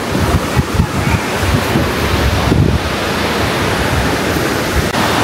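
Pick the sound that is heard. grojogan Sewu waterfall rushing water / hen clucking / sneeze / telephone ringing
grojogan Sewu waterfall rushing water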